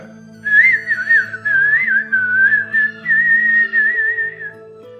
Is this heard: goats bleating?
no